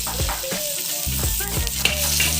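Ginger and garlic paste sizzles in hot oil for a crab curry, a close, steady frying hiss broken by brief stirring scrapes.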